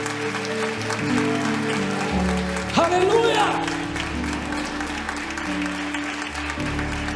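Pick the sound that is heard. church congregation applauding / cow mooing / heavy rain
church congregation applauding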